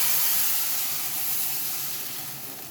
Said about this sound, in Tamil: கையை இதில் டிப் பண்ணிட்டு நான் கல்லில் ஊற்றுறேன் பாருங்கள்